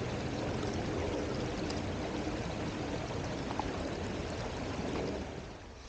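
Water pours steadily into a bottle outdoors at a campfire site, a continuous close rushing splash that holds for several seconds and tapers off slightly at the end.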